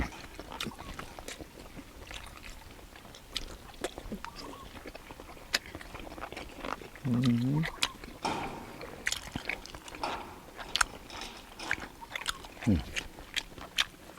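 Crunchy chewing of blanched pork intestines dipped in fresh chili jaew, with repeated close, sharp bites and crunches scattered through the clip, mixed with talking nearby.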